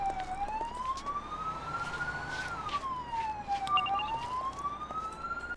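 A police car siren wails in the Police Simulator video game, a clear tone sweeping up and down in slow cycles over low traffic rumble, with no talk.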